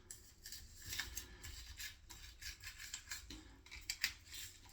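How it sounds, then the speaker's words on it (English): A toothbrush scrubs CPAP machine parts with quick, faint, irregular bristly strokes, close up and with no voices. "go ahead and brush out some of these parts the best you can reach"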